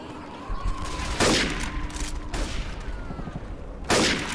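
Sniper rifle shots in the Left 4 Dead 2 VR mod, played with motion controllers: three loud, sharp blasts spaced a second or more apart over a steady game background.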